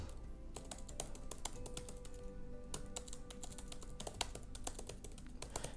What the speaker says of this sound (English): In my defense, I'm typing too.